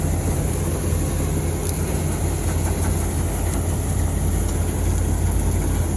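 Tractor-driven back to back machine running steadily, a loud, continuous low engine rumble with mechanical drone and no pauses.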